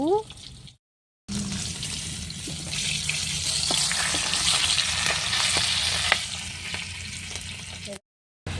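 Fish frying in a pan at home in the morning: a steady broadband sizzle runs close and loud through most of the moment, with brief gaps at the start and end and faint voices at the edges.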